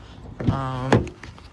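A short motorized buzz, close by, framed by two dull mechanical clunks as the door lock actuator of a 2015 Ford Police Interceptor Utility engages.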